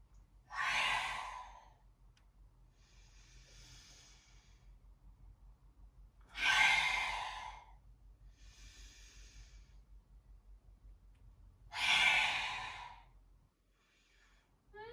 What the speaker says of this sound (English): I'm inviting you to use that lion's breath on the exhale in cat.